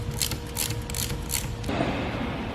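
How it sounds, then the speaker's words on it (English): A wrench clicks and ratchets while breaking free a 5/16 Allen bolt on a Lewmar ProFish 1000 windlass, a few sharp mechanical clicks followed by a duller grinding shift, close and moderately quiet. "it's going to be a 5/16 Allen bolt, and you're just going to basically break this free and remove."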